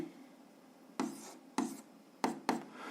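Pen strokes on paper while an algebra exercise is worked out by hand, four quick scratchy bursts at a steady pace, close and fairly quiet, no talking.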